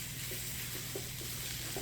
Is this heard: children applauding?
no